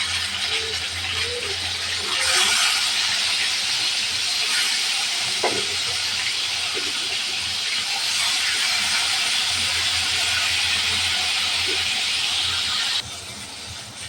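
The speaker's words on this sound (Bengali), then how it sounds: "তেল গরম হয়ে গেছে দিয়ে দেব মাছ" Koi fish frying in hot oil gives a loud, steady broadband hiss that rises sharply a few seconds in and holds close and dense before easing near the end, with faint clinks beneath.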